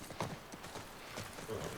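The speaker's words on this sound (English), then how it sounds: "Careful with your horse." Horse hooves clip-clop at a walking pace on the ground in the video game The Last of Us Part 1, soft and fairly distant in a quiet scene.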